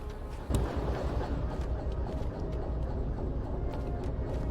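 A train rolls along rails in the Derail Valley VR train simulator, a steady low rumble with faint rhythmic clatter and one sharp clank near the start, continuous and fairly close, with no talking.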